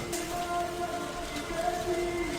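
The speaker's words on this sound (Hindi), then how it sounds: "आज सुबह से ही कई इलाकों में बारिश हो रही है" Monsoon rain falls over Gopalganj in a steady, even wash of hiss and patter, unbroken throughout, with a faint sustained tone running underneath.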